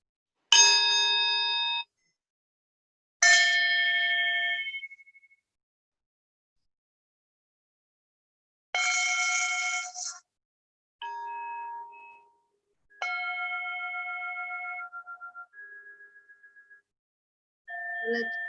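Meditation bells ring out several times during a guided healing circle, each clear, resonant tone sustaining and fading, with pauses of silence between strikes.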